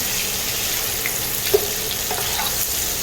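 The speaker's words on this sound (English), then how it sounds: "I've got my onions, my bacon, and my sausage all cooked together nicely" Onions, bacon and sausage fry together in a pan with a loud, continuous sizzling hiss, broken only by a small clink partway through.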